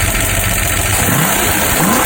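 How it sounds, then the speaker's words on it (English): A Dodge 360 LA V8 runs loudly and steadily up close, broken in but with a ticking fault, a dense continuous engine roar with a slight rise in revs near the end. "You can hear the ticking, and yeah, there it is."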